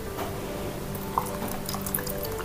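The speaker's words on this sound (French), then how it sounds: "je vais mettre 250 ml d'eau au fond de mon plat" Water, about 250 ml, is poured into the bottom of a baking dish, a quiet, close trickle with a couple of small splashes and drips.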